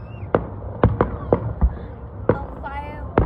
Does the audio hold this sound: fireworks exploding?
yes